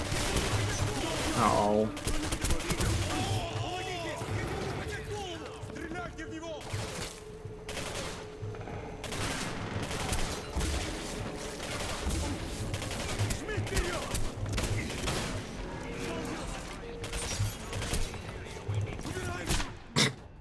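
Gunfire from shooting enemies in the 2010 video game Singularity: dense, rapid shots crackle through the whole stretch, loud and close, with a voice briefly heard over them.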